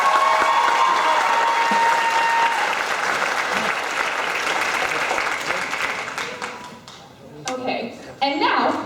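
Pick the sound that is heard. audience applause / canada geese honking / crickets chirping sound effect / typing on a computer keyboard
audience applause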